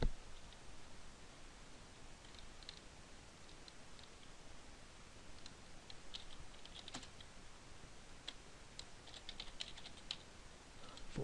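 Light typing on a computer keyboard, scattered soft clicks that thicken toward the end, faint against a steady hiss of background noise with no talk.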